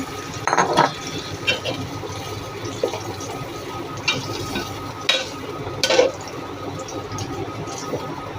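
Rohu fish head being sautéed with tomatoes and spices in a pan, a soft steady sizzle broken by a few louder scraping stirs near the start and middle, close up with no talking.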